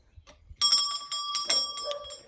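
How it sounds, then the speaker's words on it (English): A bright metallic bell rings twice in quick succession, its shimmering tones lingering and overlapping, with faint rustling before the first strike. "Let's ring the bell."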